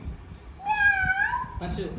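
A voice imitates a kitten with two drawn-out, rising-and-falling meows, the second shorter and more nasal, over light background noise.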